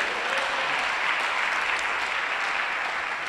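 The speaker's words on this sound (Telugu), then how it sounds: "కొట్టు చప్పట్లు ఒకసారి" A church congregation at a Christian sermon breaks into a round of applause, a dense, even burst of many hands clapping that fills the space for a few seconds.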